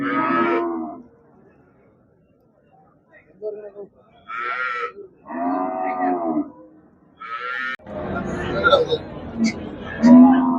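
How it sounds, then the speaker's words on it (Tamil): Cattle at a livestock market in Melapalayam, Tirunelveli, lowing in a string of loud, drawn-out moos, several close together, then a busier stretch of crowd babble and market noise with a final moo. "நல்ல காலமாடு ஒன்று வந்திருக்கு நல்ல ஜல்லிக்கட்டு காலம் மாதிரி நல்ல ஒரே கலரில் இருக்கு"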